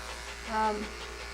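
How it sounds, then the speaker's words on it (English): Cordless electric clippers trimming small areas on a dog give a brief, close buzzing hum that swells for a moment and fades, with a person talking around it. "This is where this cordless comes in real handy for these little areas."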